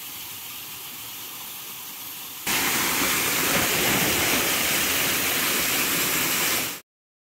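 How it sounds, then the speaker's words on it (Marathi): A farm waterfall roars as a steady broadband rush that becomes sharply louder and nearer partway through, then cuts off abruptly at the end. "आपला धबधबा"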